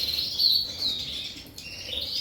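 Two little yellow birds, canary-type breeding stock, chirp in a high, thin trilling line that wavers and slides, close and fairly clear with no voices present.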